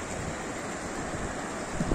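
Shallow rapids on the Syr Darya river rush in a continuous broadband wash, close and fairly loud, with a gust of wind buffeting the microphone near the end.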